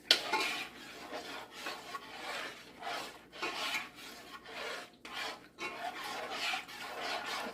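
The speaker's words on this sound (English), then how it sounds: "And you stir them together." Food being stirred together in a cooking pot, heard as repeated close rasping scrapes of a utensil against the pot in a steady back-and-forth rhythm, with no talking.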